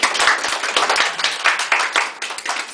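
A small group applauds for a student, the individual handclaps sharp and distinct, near and uneven, in a brief burst of clapping.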